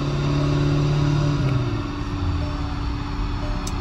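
A VAG car with a Euro 6 engine held at full throttle in fourth gear toward the red line, its engine note loud and steady throughout with a slight drop in pitch partway through.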